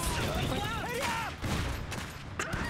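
Gunfire in the video game Iron Harvest, a dense burst of rapid shots with booming impacts crowding a short stretch, with people talking over it.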